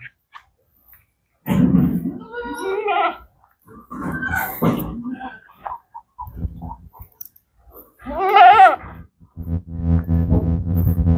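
Goats bleating, several loud close calls with pauses of silence between them, some wavering and drawn out, alone without talk.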